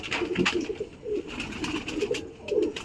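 Several pigeons coo in low, throaty, repeated bursts close by, overlapping one another in a soft continuous murmur with no talk.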